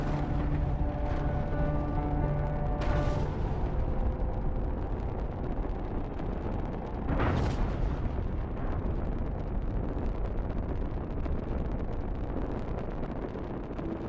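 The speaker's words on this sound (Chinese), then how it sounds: "火箭在起飞3秒钟后就发生了爆炸" A US Navy satellite launch rocket exploding about three seconds after liftoff, heard as a continuous loud roaring rumble with a brief tonal whine at first and a surge partway through, in archival footage.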